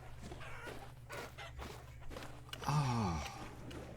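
Chickens in the video game Vintage Story, a few soft clucks and footstep-like taps, then a louder squawking cluck near the end, fairly faint and close.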